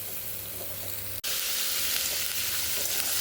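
Garlic sautéing in a pan, a steady close sizzle that cuts out for a split second with a sharp click and then returns as a brighter, louder continuous hiss with no talk.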